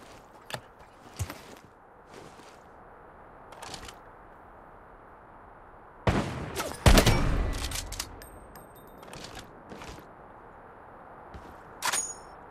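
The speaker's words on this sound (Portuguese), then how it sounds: "o tiroteio que eu ouvi é lá do outro lado" Distant gunfire in the video game Lost Light, a scatter of sharp isolated shots with a louder burst near the middle and another late crack, faint over quiet ambient game sound.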